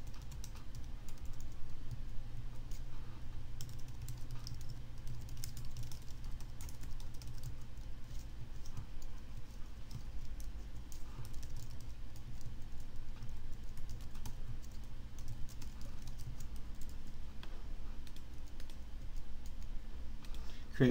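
Someone types a password on a computer keyboard: quiet, close, irregular key clicks continue throughout with no talking.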